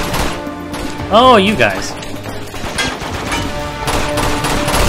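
Gunfire in the video game Uncharted 2: Among Thieves, on a train level, crackling as steady bursts beneath a voice talking, with a rising pitched whine over a sharper burst near the start.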